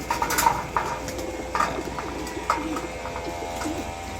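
Pigeons coo repeatedly at feeding time, soft throaty calls rising over a busy background of rustling and faint clinks from the feeding area.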